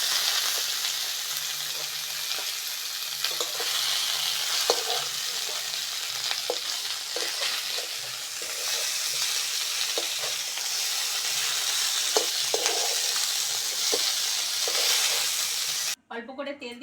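Vetki fish bones frying in hot oil give off a steady, loud sizzle with faint stirring clicks, and the sound ends abruptly near the finish.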